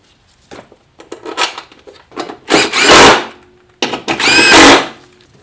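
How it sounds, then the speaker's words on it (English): A power tool runs down 10mm bolts on the air intake of a BMW E46 330i/325i, giving two long whirring bursts after several short, lighter spins, loud and up close with no one talking. "Put the two 10mm bolts back on."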